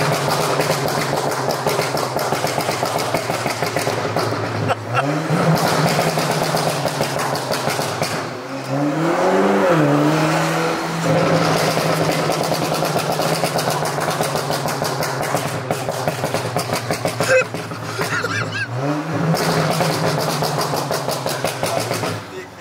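A loud Brabus A-Class car engine and exhaust idling and revving on a London street, with steady rumble and a few sharp rev swells rising and falling, while people talk and laugh over it.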